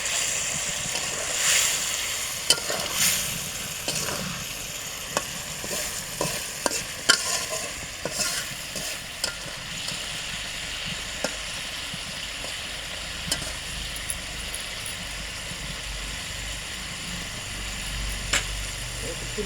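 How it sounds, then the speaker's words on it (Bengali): Fish curry being stirred in a pan in a village kitchen after chopped coriander leaves go in, with steady sizzling and frequent scraping clicks of the spoon against the pan, close by. "নেড়ে চেড়ে দিয়ে একটু উঠিয়ে নেব"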